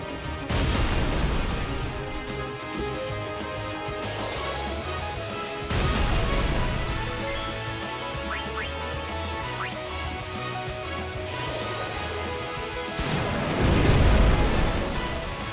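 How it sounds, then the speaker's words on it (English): Explosions in Final Fantasy X gameplay, heavy booming blasts that swell and fade in repeated waves over a continuous layered game soundtrack, loud and dense throughout. "Explosion."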